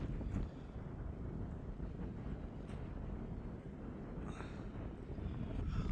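Steady low wind buffets the microphone on an Appalachian Trail ridge, a constant rumbling roar with no talking.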